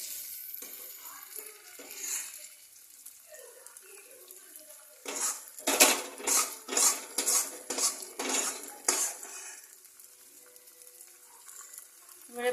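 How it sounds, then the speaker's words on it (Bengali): Mustard greens for a Punjabi-style sarson saag are stirred and mixed in a wok. A metal spatula clanks and scrapes in a loud rhythmic burst over a soft sizzle, then the stirring settles down. "এবারে ভালো করে কড়াই থেকে পুষে সর্ষের শাকটা আমি দিয়ে দিচ্ছি, দিয়ে এটার মধ্যে ভালো করে মিক্স করব।"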